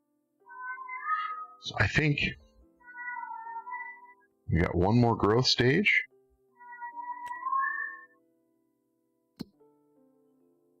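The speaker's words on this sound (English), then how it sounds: "You guys can probably hear that cat in the background." A cat meows in the background indoors, several drawn-out tonal calls spread through the clip and alternating with someone talking, plus a single sharp tap near the end.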